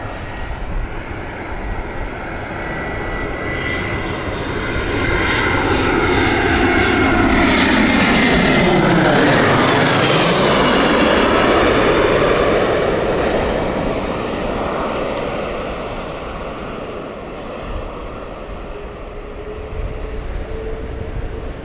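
An airliner lands at Gatwick Airport. Its engine roar swells steadily to a loud, close peak around the middle, with a clear falling pitch sweep as it passes, then fades into a softer, lingering rumble.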